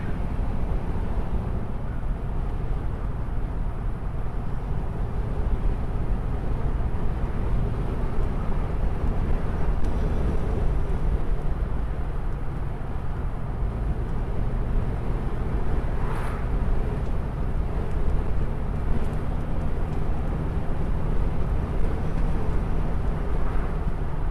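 A 1935 Ford Phaeton with a flathead engine drives in third gear, a loud continuous low rumble mixed with road and wind noise and no break in the steady drone.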